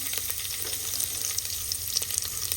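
Crushed garlic sizzles in hot oil with mustard seeds for tomato pickle, a steady close frying hiss broken by small crackles and pops, no voices.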